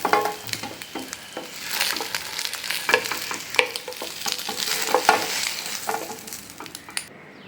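A bread sandwich fries in a pan over a medium flame, with steady crackling sizzle and scattered scraping stirs, close and moderately loud, no voices.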